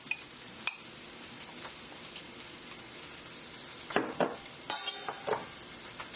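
Frozen vegetables stir-frying in a pan with shrimp and sausage, a steady low sizzle broken by a spatula scraping and clinking against the pan, close and alone without talk.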